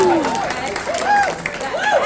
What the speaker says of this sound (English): That is worth applause.